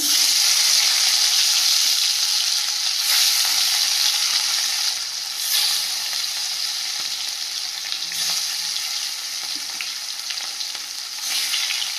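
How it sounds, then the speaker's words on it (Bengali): A large bhola fish fries in oil in a wok with a steady, loud hiss throughout, with occasional bursts of spattering and stirring scrapes and no voices. "কড়াইতে দিয়ে দিয়েছি তেল মাছগুলো একে একে ভেজে নেব"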